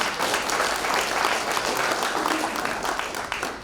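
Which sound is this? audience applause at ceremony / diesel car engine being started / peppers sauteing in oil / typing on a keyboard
audience applause at ceremony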